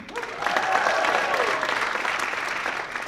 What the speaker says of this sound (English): We can save the applause while I read through all of them.